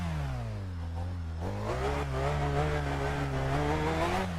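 A car engine in the racing game Assetto Corsa on PS4 revs hard and steadily, its loud, harmonic drone rising and wavering in pitch with no talking over it.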